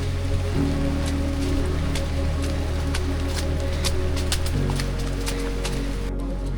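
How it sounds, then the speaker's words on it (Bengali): Steady, dense monsoon rain in the Bandarban hills patters on surfaces with a constant hiss, close and even, and a low continuous rumble beneath it. "এই পাশে প্রচুর বৃষ্টি হইতেছে"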